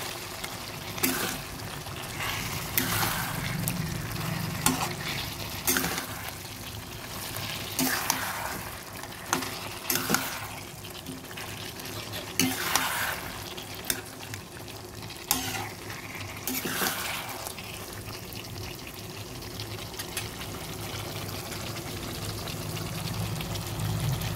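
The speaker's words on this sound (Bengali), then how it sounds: "নুন এবং হলুদ দিয়ে ভালোভাবে নেড়ে দিচ্ছি" Mutton curry being stirred in a pan with salt and turmeric, a steady scraping and soft sizzling texture with irregular spoon knocks, continuous and close.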